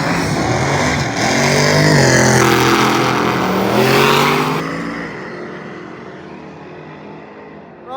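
Drag racing cars launching down the strip on the last day of a race week, a loud engine roar rising and revving over several seconds, then fading into the distance.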